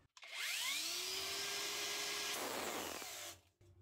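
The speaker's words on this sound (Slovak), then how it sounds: "No a teraz vyskúšam na Flexu zatlačiť." Parkside Performance PWSAP 20 Li-C3 cordless angle grinder cutting under heavy pressure: a loud whine that sags in pitch as the disc slows, then a harsh gritty burst before the motor cuts off, close and alone.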